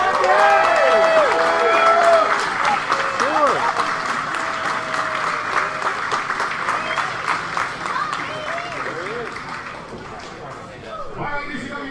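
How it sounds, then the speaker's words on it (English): Crowd at an indoor wrestling show applauds and cheers, a loud burst that slowly fades, with voices shouting over the clapping. "would you please give a big round of applause for Dave Hebner?"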